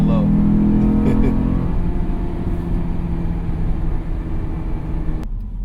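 A Honda S2000 AP1 at full throttle on a winding road: a loud, steady engine drone with cabin noise, a rising tonal whine in the first seconds, then a sustained roar; a voice is briefly heard early on.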